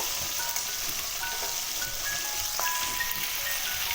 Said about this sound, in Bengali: ভালো করে একটু কড়া করে ভেজে নেব